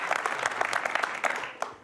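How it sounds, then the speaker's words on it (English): Brief burst of audience applause voting for a camo hat at a BYU Football show event, a full, lively clatter of many hands lasting under two seconds. "So by your applause, votes on the camo hat tonight?"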